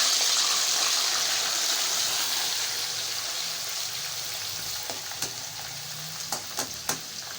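Mung dal nimko frying in hot ghee, a steady, dense sizzle that slowly eases, with a few sharp clinks of a utensil near the end and no talking.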